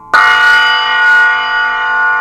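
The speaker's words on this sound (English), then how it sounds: "The B15 one, the signature bell, you can hear all those overtones" A B15 bronze signature bell cymbal, struck once with a sharp attack and then ringing on with a bright, sustained tone rich in shimmering overtones, loud and close.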